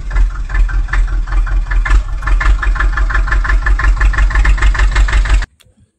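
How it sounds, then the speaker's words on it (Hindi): A mini tractor's engine runs close by in a loud, even rhythmic chug for about five seconds, then cuts off abruptly, with no talking over it. "चलो अब ट्रैक्टर बैक कर लो,"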